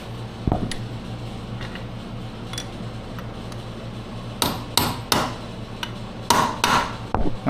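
A metal punch is struck with a hammer to stake a nut on an ATV gear reduction install: a sharp tap early, then a quick series of loud, ringing metallic hits spaced irregularly, close up, over a low steady hum.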